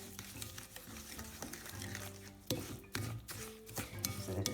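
Rooibos tea fruit loaf batter being stirred with cooking oil in a bowl, a quiet, steady run of soft scraping and sloshing strokes with a few sharper knocks of the spoon.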